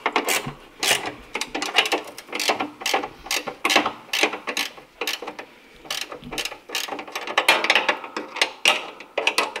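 Bolts on a Volvo 240 are tightened with 12 mm spanners, producing a rapid run of sharp ratcheting clicks in uneven bursts, close and fairly loud, with brief pauses between strokes.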